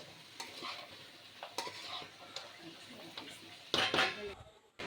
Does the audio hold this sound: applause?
no